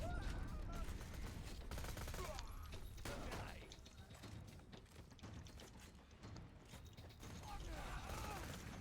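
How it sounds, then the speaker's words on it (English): A turret deploys in Borderlands 2 with mechanical clanks and creaks, set amid dense, loud game gunfire and effects that run throughout. "let's get the turret out"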